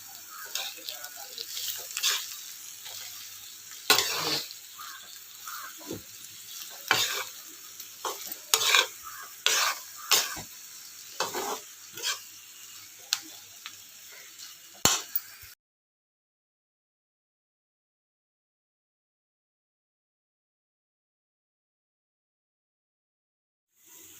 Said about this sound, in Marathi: आपण आता मीठ टाकून घेऊया आणि मिक्स करून घेऊ.